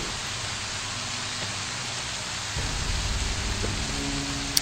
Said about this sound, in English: Ah, that was that sound. Okay. It was rain.